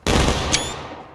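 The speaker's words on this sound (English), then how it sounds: "Firing by company, take aim for salute." A company of soldiers fires a musket volley salute in a War of Rights battle drill, one loud near crash of many shots merging into a single ragged blast that rolls off into a fading echo.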